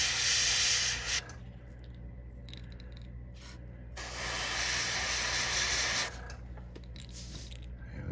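Airbrush spraying paint onto a fishing lure, two loud bursts of hissing spray with brief quieter gaps between them, close to the microphone.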